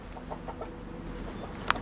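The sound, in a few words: chickens clucking at a hen house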